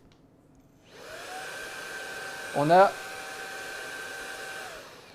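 A Hoover Series 300/500 cordless stick vacuum motor spins up to full power after about a second, a steady high whine holding evenly with a brief voice over it, then cutting off near the end.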